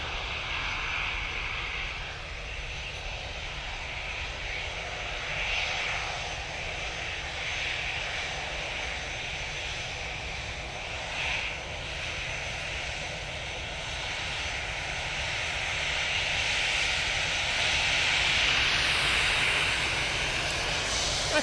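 EasyJet airliner coming in to land at Manchester Airport, a continuous distant jet roar with a faint whine that swells gradually toward the end, with no talk.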